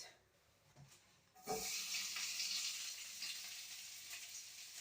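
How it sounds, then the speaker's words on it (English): Food for chilli con carne hits a hot frying pan and bursts into a loud, steady sizzle after a quiet moment, crackling on continuously up close. "I love that first sizzle sound."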